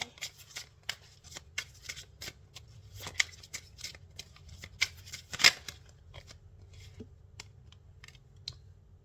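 Tarot card deck being shuffled by hand, a run of quick crisp taps and riffling clicks at an uneven rhythm, close and fairly quiet with no talk.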